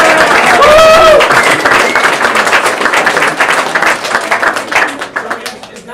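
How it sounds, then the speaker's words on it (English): Loud, sustained applause from a crowd at a rowing regatta results ceremony, dense clapping that swells early and slowly thins out, with a voice briefly heard over it. "can we give a round of applause to"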